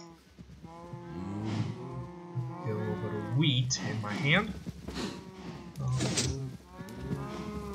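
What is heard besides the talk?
cows mooing in Minecraft video game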